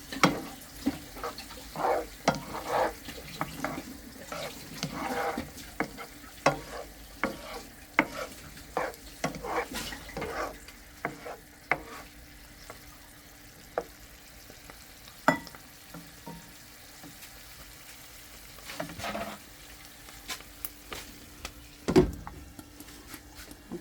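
Pork fat frying and being stirred to render cooking oil, a steady sizzle under frequent scraping and clacking of a utensil against the pan, close and busy throughout.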